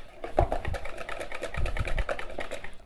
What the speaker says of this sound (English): It's whisking real good.